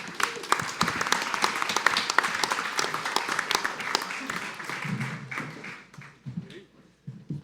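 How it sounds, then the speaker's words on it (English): Audience applause for a contest winner at a live stream event, a dense burst of claps that thins and fades after about five seconds, with some low voices and thumps near the end. "Give Chris a round of applause."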